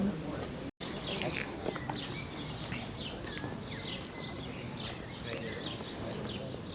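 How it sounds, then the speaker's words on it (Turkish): Birds chirp and call repeatedly in short, scattered bursts over a steady outdoor hiss, fairly faint with no one speaking. "Kuşların sesini dinler misin ya?"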